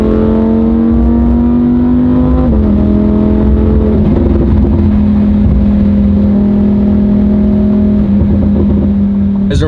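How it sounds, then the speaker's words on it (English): A tuned Lamborghini Huracan drones loudly in a parking garage, its steady engine note stepping down in pitch a few times as it settles, with no talk over it. "You gonna start this thing up, Mike? Oh my gosh! In his parking garage, it is loud"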